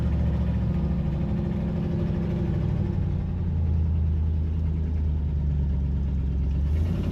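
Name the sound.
old car engine running after 16 years off the road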